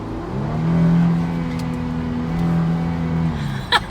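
Engine of a Mercedes fitted with a pedal commander pulling steadily under throttle, a continuous loud drone that swells and eases slightly, with a brief clatter near the end.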